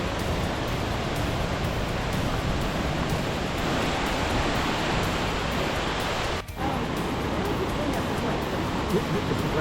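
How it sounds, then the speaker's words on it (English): Happy Creek in North Cascades National Park rushes loudly and steadily nearby, a constant broad roar of flowing water with one brief dip. "This is called Happy Creek."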